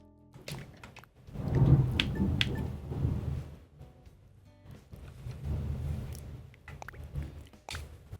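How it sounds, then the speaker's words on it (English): Thunder in Animal Crossing: New Horizons, two long low rumbles swelling and fading, the first louder, over a soft bed of steady rain, with no voices. "Did you hear that thunder? It's still going. It hasn't stopped. It's still rumbling."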